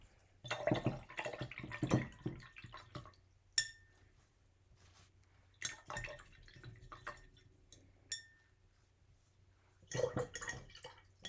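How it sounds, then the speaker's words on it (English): A paint brush rinsed in a small container of water, with intermittent clinks and taps of the brush against the container and dripping, close and fairly quiet, in bursts separated by pauses. "Rinsing my brush."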